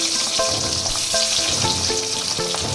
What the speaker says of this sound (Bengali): প্রথমে দেখো পেঁয়াজ দিচ্ছি আমি